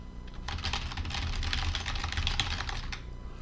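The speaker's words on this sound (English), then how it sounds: "press the G key on your keyboard, followed by some totally random high number" Rapid typing on a computer keyboard while setting up a scene in Blender, a steady dense patter of key clicks that starts after a brief pause and runs for about three seconds before stopping, close and moderately loud.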